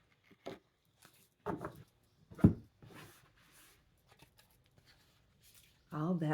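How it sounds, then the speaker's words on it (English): Tarot cards rustle and slap in short, scattered bursts of shuffling, close and soft, separated by quiet gaps and ending in a louder flurry. "All that shuffling for that one card"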